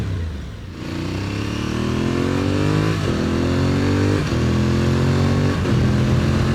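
An Aprilia Tuareg 660 motorcycle engine drones loudly and close while riding, rising in pitch and dropping sharply at three quick clutchless upshifts.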